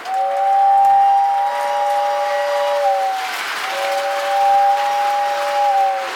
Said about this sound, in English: A nice, strong air whistle.